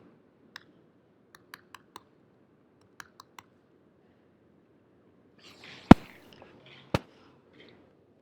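Sparse individual keystrokes on a computer keyboard as an email address is entered, a handful of crisp isolated clicks followed by a louder cluster of sharper taps, close and otherwise quiet.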